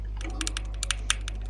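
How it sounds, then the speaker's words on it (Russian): Rapid, hard keystrokes on a computer keyboard during a game, a quick irregular burst of sharp clacks over a low steady hum, close and fairly loud, no talking. "Клавиатуру не сломай."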